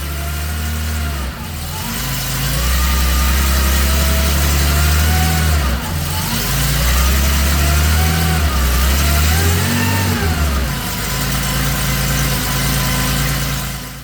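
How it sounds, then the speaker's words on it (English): An air-cooled Porsche 911 with CIS fuel injection idles on a test stand, running rich with a startup surge. The loud, close engine sound rises and falls in slow, wavering swells of revs. "what we're getting on startup is a little surge for about 30 seconds, like it's running too rich"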